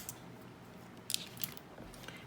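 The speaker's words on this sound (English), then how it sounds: "I'll get my handy dandy scissors and just cut this right here." Scissors snip cotton wick on an Alexander RDA vape atomizer, two or three quiet, crisp cuts close by against a faint background hiss.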